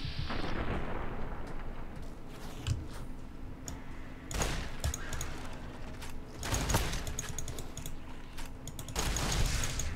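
Gunfire from a weapon in Fallout: New Vegas cracks out in several sharp, widely spaced shots, each a loud burst over a low game ambience, with clicking sounds in between.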